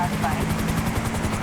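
A helicopter in the video game GTA V thumps with steady, rapid rotor beats during a police chase near a dam, with a voice talking over it.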